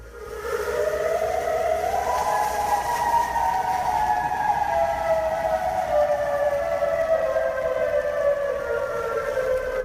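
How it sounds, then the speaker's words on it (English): A civil defense siren from Federal Signal Corporation wails with an eerie, steady sustained tone that slowly bends downward in pitch over about ten seconds, loud and unbroken, with a faint rumble underneath. "But in my opinion, this siren is the most eerie sounding one."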